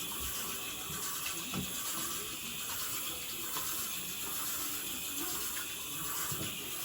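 A running tap pours steadily over hands being washed, a constant close hiss of water at even loudness with faint splashing and no pauses.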